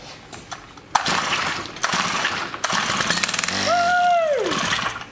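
A small four-stroke engine with a fuel problem sputters into loud, rough running for a few seconds, then winds down with a falling tone and dies.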